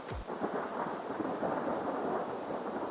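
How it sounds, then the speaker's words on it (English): Loud, rumbling thunder rolls through a storm at a truck campsite, with a sharp low crack at the start followed by a sustained, dense roar that stays strong throughout. "That is some serious thunder."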